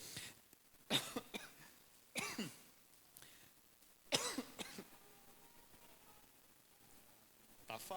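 Several separate bursts of coughing, loud and close, spaced out over a quiet background.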